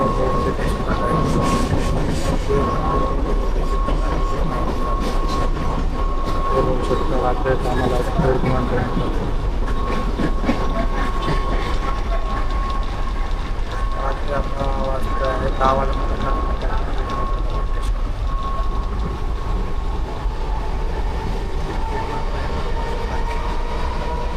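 Steady rumble and rattle inside a moving train, with rhythmic rail clatter and a constant loud background roar throughout, plus faint voices now and then.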